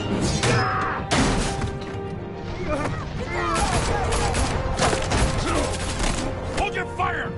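Rapid gunfire with crashing, shattering impacts in the Batman Telltale video game, dense and loud throughout with bursts overlapping and brief voices mixed in.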